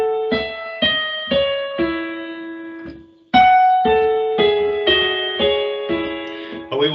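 Solo piano plays a lesson tune with the lower right-hand notes struck too loudly, a steady sequence of ringing notes with pronounced attacks and sustained decay, close and without talking.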